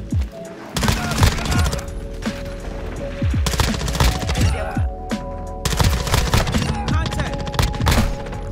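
Two grenades go off in Call of Duty amid dense, rapid gunfire. Sharp, loud blasts and bursts repeat close by, while a player talks over the action.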